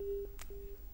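A phone line gives a steady busy tone after a caller to a live call-in program disconnects: two short, clear beeps at an even pace, heard alone over faint background hiss.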